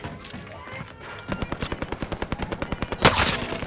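Sustained automatic gunfire in Call of Duty: Modern Warfare, a rapid regular burst of loud shots lasting a couple of seconds and ending in a heavier blast.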